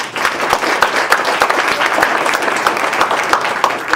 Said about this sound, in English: like to invite another round of applause for Bill Bolton.